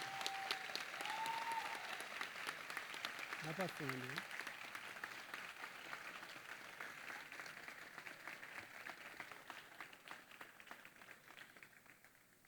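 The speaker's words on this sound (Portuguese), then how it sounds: "uma salva de palmas a mais para todos eles" Applause from an audience at a school gathering: steady, dense clapping from many hands fills the room for several seconds, with a brief spoken remark near the start and the clapping slowly thinning toward the end.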